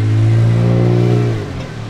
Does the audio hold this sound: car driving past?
yes